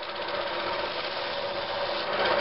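A shopmade drum sander runs steadily as a wooden board is fed through, giving a continuous, even grinding whir at close range with no talking.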